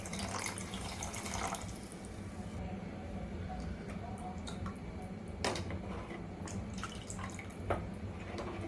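A little extra water poured into a pot of cooking horse gram mixture makes a soft, steady trickle with a few splashy drips, quiet and close.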